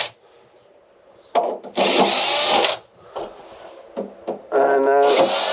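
Sanding on boat bulkheads before fiberglassing, in two loud bursts of rough, broadband abrasive scrubbing separated by quieter handling knocks and shuffles, close to the listener.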